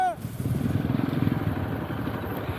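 A Bullet motorcycle engine chugs with a rough, pulsing throb as it rides off-road over uneven jungle ground, loud and close, with a brief voice at the start.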